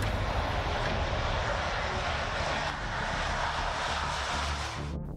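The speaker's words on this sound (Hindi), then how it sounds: "ताइवान चीन तनाव के बीच 6 ब्लैक ईगल विमान ताइवान के एयरपोर्ट पर उतरे।" Loud, close engine roar of a South Korean Black Eagles aerobatic jet landing at an airport in Taiwan, a sustained broadband rumble that fades slightly near the end.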